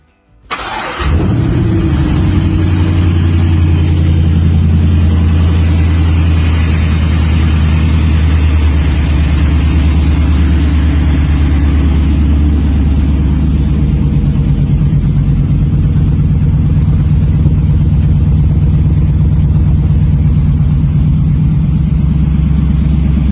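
A 1985 Pontiac Trans Am with a swapped LS1 V8, 4L60E automatic and nitrous port system fires up and settles into a loud, lumpy, steady idle with a deep rumbling exhaust that runs continuously.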